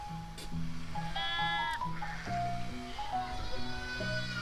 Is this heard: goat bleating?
yes